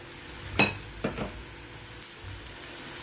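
Chopped onions and green chilies drop into a pan of cooking carrots, giving a couple of sharp clinks and a brief rush of sizzling before the frying settles into a quiet, steady hiss.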